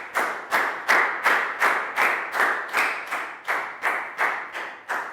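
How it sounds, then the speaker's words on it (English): Claps in a Year 3 science classroom lesson ring out in a steady, regular rhythm, about a dozen evenly spaced loud claps in a row, close and crisp with each one decaying before the next, with no talk. "High five and a big round of applause for Net."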